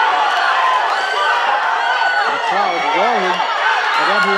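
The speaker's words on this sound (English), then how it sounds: "The crowd roaring." A boxing arena crowd roars at a bantamweight bout, a loud, dense wall of cheering and whoops that holds steady throughout, with a commentator's voice rising over it.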